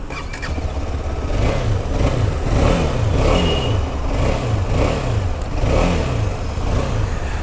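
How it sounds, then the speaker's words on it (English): A motorcycle engine revs repeatedly in smooth rising-and-falling pulses, steady and fairly loud, with no talking. "exhaust note is decent, not too loud, it's smooth"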